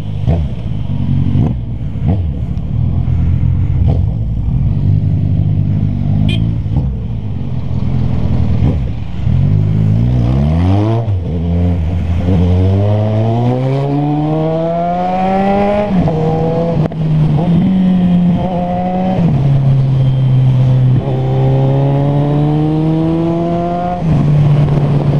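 A car engine revs hard and climbs through several gears, its pitch rising and dropping with each shift, loud and close from inside the vehicle, with no talking.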